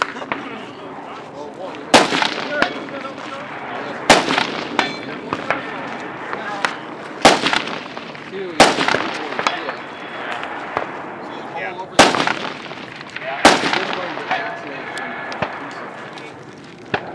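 Long range rifle shots ring out at a shooting stage, about seven sharp loud cracks spaced a couple of seconds apart, with people talking among the shots.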